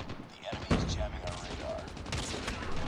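Rapid gunfire in the Call of Duty Mobile shooter, played on PC with keyboard and mouse: a sharp nearby shot followed by bursts of shots over a dense, noisy game soundscape.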